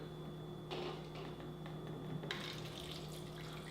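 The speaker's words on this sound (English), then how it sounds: "I'm going to put it right here in this glass, and I'm going to use Kangen water" Kangen water pours into a glass holding a green tea bag, a steady close trickle with a faint hum in the background.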